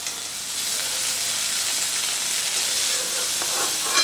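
Broccoli fries in oil in a wok over a medium flame, giving a steady close-up sizzle and hiss with faint stirring near the end and no voices.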